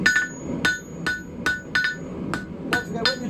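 A blacksmith hammers a forged icicle on the horn of an anvil: about nine sharp, ringing metal blows in a quick, slightly uneven rhythm, close and clear.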